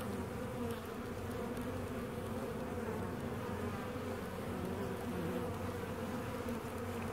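Honey bees on a frame lifted from a nuc hive make a continuous close, droning buzz, steady and even throughout with no talk over it.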